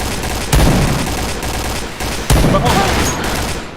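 Dense, loud bursts of automatic gunfire in the online shooter Point Blank, two sustained volleys rattling close with sharp onsets and no clear talk over them.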